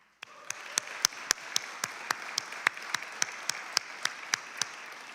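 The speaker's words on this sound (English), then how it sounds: "Please give me one final round of applause for our 18 winners." An awards-ceremony audience claps for the 18 winners, with sharp, evenly spaced hand claps standing out over a softer bed of applause for about five seconds.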